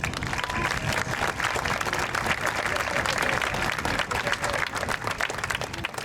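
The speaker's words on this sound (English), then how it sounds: "I think that one deserves a round of applause" A round of applause from the crowd at a high school Class of 2025 commencement ceremony, steady and full throughout, with some cheering mixed into the clapping.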